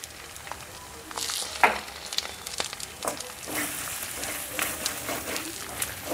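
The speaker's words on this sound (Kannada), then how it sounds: "ಇದೆಲ್ಲ ಚೆನ್ನಾಗಿ ಸ್ವಲ್ಪ ಫ್ರೈ ಮಾಡ್ಕೊಳ್ಳಿ ಆಯಿಲಲ್ಲಿ" Chili, coriander and cumin powder fry in oil with a soft, uneven sizzle, broken by scattered clinks and stirring bursts of hiss.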